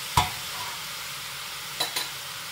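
Okra stirred and frying in a pot for Iraqi okra stew, a steady low sizzle with two or three brief utensil scrapes, close and fairly quiet, no talking.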